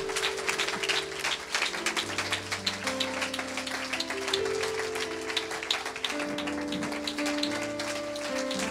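A church congregation claps and cheers loudly and continuously, a dense wash of applause layered over sustained organ or keyboard chords during a worship service.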